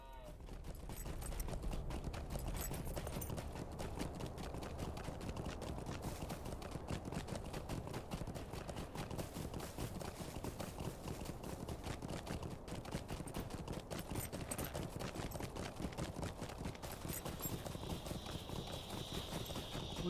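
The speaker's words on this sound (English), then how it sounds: "I feel like I've just got to get on a horse or a mount and do" Horse hooves gallop in the Lord of the Rings Online game, a fast, even, continuous clip-clop rhythm drumming steadily throughout at moderate loudness, with no talking.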